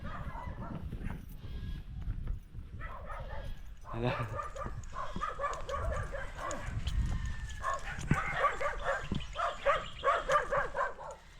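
Several dogs barking repeatedly at close to middle distance in a rural village yard with peanut diggings, yips and whimpers mixed in, with people talking over and between the barks.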